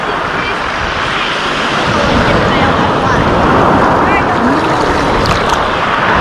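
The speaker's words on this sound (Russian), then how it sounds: "Ох, хорошая волна." Sea waves churn near the shore on a stormy-looking Black Sea morning, a loud, continuous wash of surf with wind buffeting the microphone throughout.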